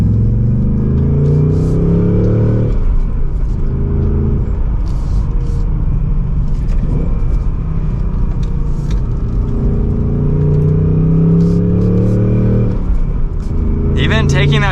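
A 2024 Ford Mustang GT Premium with a manual gearbox pulls away from second gear, its deep engine rumble rising and falling steadily throughout, heard from inside the cabin with road noise underneath.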